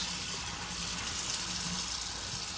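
Warm tap water runs steadily into the clean-water tank of a Dreametech H11 Max carpet cleaner, a continuous close splashing fill with no talking.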